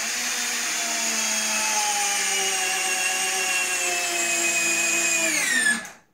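A power drill whines steadily as it drives a 3-inch (75 mm) self-drilling screw, holding a constant pitch for several seconds, then winding down abruptly as the screw sinks and the drill stops.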